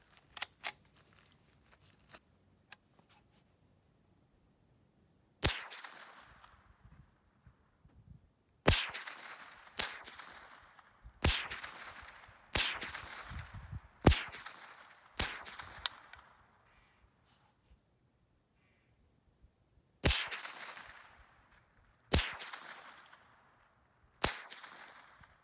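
A Ruger 10/22 semi-automatic rifle fires .22 rounds outdoors as roughly a dozen sharp, separate cracks spaced a second or more apart, each trailing off in a brief ringing decay, with quiet gaps between a few early clusters.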